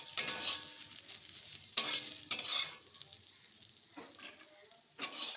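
Bitter gourd frying in oil in a pan, loud bursts of sizzling and stirring scrapes coming in several waves with quieter crackle between them, close up with no talk.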